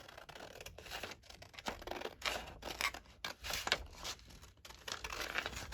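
Scissors trim paper for a junk journal in repeated cuts and crinkles, close and fairly quiet, with no talking.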